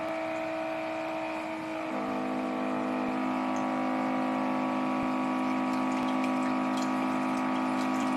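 A pump runs as ink cleaning fluid flushes through the second printhead circuit of a digital printer, a steady droning whir with tonal hum whose pitch drops and settles after about two seconds, then keeps going evenly.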